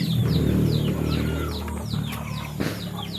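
Pet chickens fed small fish chirp and cluck in quick repeated calls close by over a low steady hum, with no talking.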